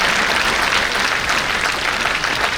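An audience at a corporate raising-day award ceremony claps steadily and loudly, a dense, uniform burst of applause without pause, close and filling the room.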